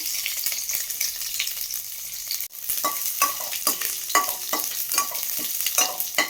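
Spices, curry leaves and garlic sauté in a hot pan for a moongdal kuzhambu, a steady bright sizzle with repeated scraping stirs of a spoon, close and continuous with one brief clatter midway.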